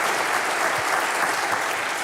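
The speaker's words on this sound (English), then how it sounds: "how about a big round of applause for Chris Tomatic?" Full, continuous applause from a studio audience, a thick wash of many clapping hands held at a loud, steady level throughout with no talking over it.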